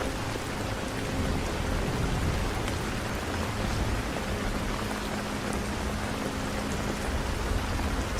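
Steady rain falls without pause, a dense, even hiss of drops hitting surfaces at constant loudness with no voices.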